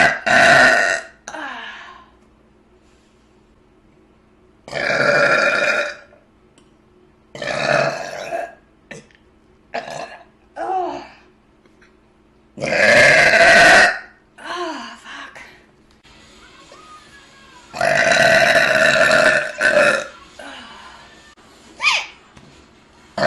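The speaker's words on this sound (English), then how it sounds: "I do burp everywhere." A woman lets out a series of loud, drawn-out burps, about six separate belches spaced by short silences, some with hiccup-like catches and faint breaths between them.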